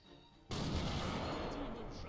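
After a quiet start, a sudden heavy cannon blast erupts in a World War II card video game, followed by a sustained loud rumble of continued firing and booming.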